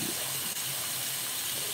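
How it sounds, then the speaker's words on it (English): Water runs from a sink faucet in a steady, close splashing hiss that stays constant throughout the short stretch, with no talk. "She can turn on the water"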